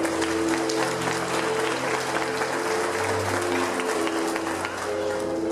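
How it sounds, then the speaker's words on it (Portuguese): A church congregation applauds continuously for several seconds, a dense, even clatter of many hands filling the room, with a low sustained tone from organ or keyboard underneath. "Você pode aplaudir o Senhor?"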